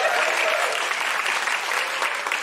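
Steady audience applause at a live comedy podcast taping, dense and continuous clapping from a room full of people with no talk over it.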